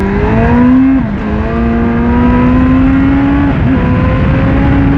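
A 2010 Baby King motorcycle with stock exhaust revs steadily up close, its pitch climbing and holding, with a brief dip before rising again. No voices.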